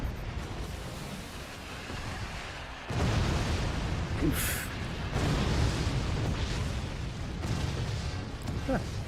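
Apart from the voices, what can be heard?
explosions in the video game Forts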